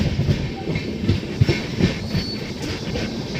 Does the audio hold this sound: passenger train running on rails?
yes